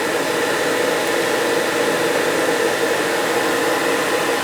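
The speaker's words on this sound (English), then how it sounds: "Seemed like the motor did hesitate for a minute there when it was running" Motor of a gas water heater running, a steady broadband whirring hiss that holds constant and loud throughout, with no talk.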